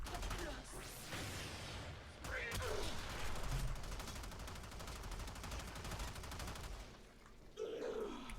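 Rapid shotgun fire in the video game Warframe, the Vacor Hek blasting bursts of shots in quick succession, with loud repeated reports and mechanical clatter filling most of the stretch over steady game ambience.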